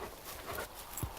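A hunting dog pants faintly outdoors in a quick, breathy rhythm, a short and quiet burst with light rustling around it.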